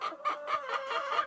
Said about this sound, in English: So here are the chickens. They're going strong in the basement.